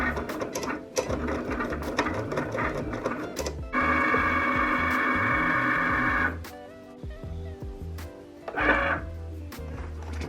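A Cricut Explore Air 2 cutting machine works through heat transfer vinyl with whirring motor runs, a sustained high buzzing stretch, stepping clicks and brief pauses, close up.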